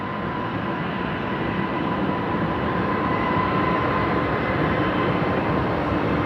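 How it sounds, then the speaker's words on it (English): A Velocity Boeing 737-700 departs Brisbane Airport, bound for Melbourne. Its jet engines produce a steady, broad roar that holds at constant loudness, with a faint tonal whine running through it. "Velocity 737-700, the shorter of the variants they operate"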